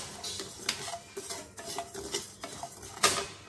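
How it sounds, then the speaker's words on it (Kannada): Spices for bisibele bath powder dry-roasting in a pan, stirred with a metal spoon that scrapes and clinks in irregular strokes, one sharper clank near the end; close and fairly quiet, with no talking. "ಸ್ವಲ್ಪ ತಾಳ್ಮೆಯಿಂದ ಹುರಿಬೇಕಾಗುತ್ತೆ"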